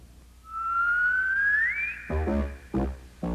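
A person whistles one long, smooth rising note that slides upward and holds, then gives way to short, voiced tuneful bursts near the end.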